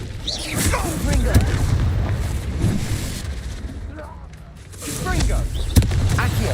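Confringo fire spell explosions in Hogwarts Legacy, repeated booming blasts and impacts amid combat noise, with a voice talking over the action throughout.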